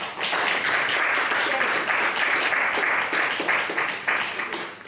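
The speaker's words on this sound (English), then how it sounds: "A round of applause for Professor Nichols," Audience applause at the opening of a university writing festival, a dense, steady wash of many hands clapping throughout, fairly loud and close, fading slightly at the end.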